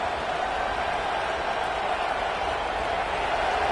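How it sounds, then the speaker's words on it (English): A dense, steady roar of a large stadium crowd at a Tennessee at Notre Dame football game fills the space, continuous and loud without pauses. "This crowd bringing the energy and noise early."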